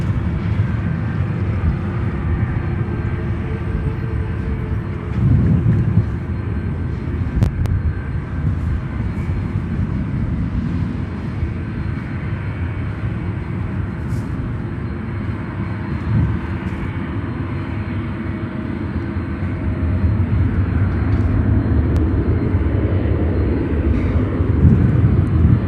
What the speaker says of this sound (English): 1998 ex-Japan Airlines converted into a 747-400 freighter.